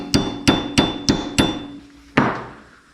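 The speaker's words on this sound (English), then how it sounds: "Hammer time." A hammer striking welded metal pieces of a corn sheller coffee table to break the brittle welds off, six loud, ringing metallic blows at a steady rhythm, close and alone, the last one after a short pause.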